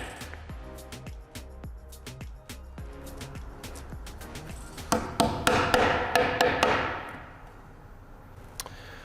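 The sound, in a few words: mallet whacking parts into place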